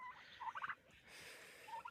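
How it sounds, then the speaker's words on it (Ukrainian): Several short, bubbling turkey gobbles ring out close by, a quick burst followed by another a moment later, with faint background noise between. "Так і є 10 індиків у нас."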